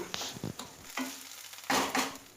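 Onion, ginger-garlic paste and chopped green chilli frying in a pan, stirred in a few short scraping strokes over a soft steady sizzle, close by and fairly quiet, with no talking.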